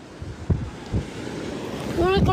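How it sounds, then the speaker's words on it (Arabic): Sea waves and wind at a beach make a steady, close rushing noise with gusty bumps against the microphone, and a voice briefly sounds near the end. "نوريكم البحر هكا نشوف."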